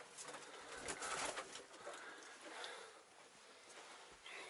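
Soft, throaty cooing of pigeons nearby inside an old minaret, echoey and enclosed, with faint rustles and shuffling.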